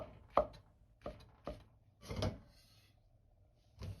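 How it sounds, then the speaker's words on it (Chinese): A knife cuts shiitake mushrooms into thick slices on a cutting board, making five distinct close thuds at an irregular pace, each a sharp knock on the wood with quiet pauses between. "接着来切香菇，这个直接切成稍微厚点的片就可以"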